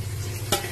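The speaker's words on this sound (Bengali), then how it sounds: "মাছ ভাজা হচ্ছে" Fish frying in a pan in a home kitchen, with a steady close sizzle throughout and a brief louder burst of spattering near the end.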